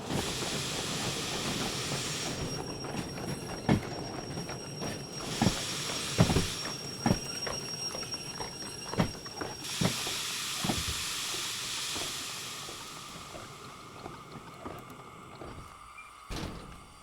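In the Derail Valley train simulator game, a steam locomotive's blower hisses in bursts that come and go, mixed with mechanical clanks and knocks, at a moderate level that fades toward the end.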